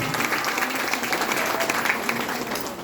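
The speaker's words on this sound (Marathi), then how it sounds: "त्यासाठी प्रत्येकीने जोरदार टाळ्या वाजवायला हव्यात स्वतःसाठी" An audience at a women's honour ceremony and lecture claps steadily and loudly, a dense, continuous applause from a gathered crowd.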